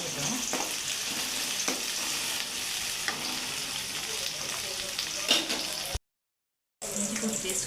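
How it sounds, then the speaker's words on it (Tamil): Curry leaves sautéing in a pan for a chicken curry: a continuous close sizzle and crackle, with occasional scrapes of a stirring spoon and a short gap of silence near the end. "நல்லா வதங்கிட்டோம்."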